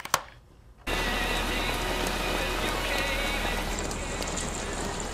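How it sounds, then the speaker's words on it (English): Heavy rain pouring down outside, a dense steady hiss of drops on surfaces that starts suddenly after a brief quiet moment and continues loud and unbroken. "It's pouring rain outside."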